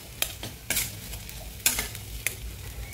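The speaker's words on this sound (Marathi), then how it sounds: "चवीनुसार मीठ, कोथिंबीर। आता आपण छानपैकी हलवून घेऊया" A spoon scrapes and clatters through vegetable filling with salt and coriander in a pan, sharp stirring strokes at irregular intervals over a soft sizzle.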